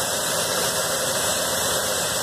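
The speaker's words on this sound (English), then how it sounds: "I got a squeak back in this exhaust." An idling dump truck engine rumbles steadily while a squeaking exhaust adds a constant high, thin squeal on top, close and unbroken for the whole short stretch.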